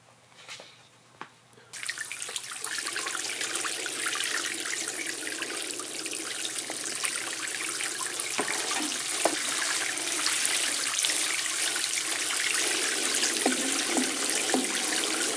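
Water runs steadily from a tap into a container used for soaking orchids, a loud continuous splashing rush that starts after a couple of seconds of quiet handling noise and goes on without pause; nobody speaks.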